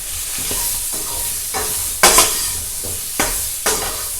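A spoon stirs gooseberry pickle with spices in a hot pan, close scraping and soft sizzling broken by several sharper clinks and knocks of the utensil against the pan.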